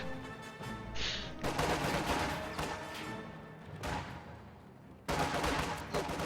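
Video game combat gunfire comes in loud bursts of overlapping rifle and machine-gun shots, with sharp onsets, brief lulls between volleys, and heavy battle ambience.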